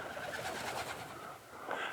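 Pigeons coo softly in a cave, a continuous low burbling from nearby birds with a slight echo, and no other sounds present.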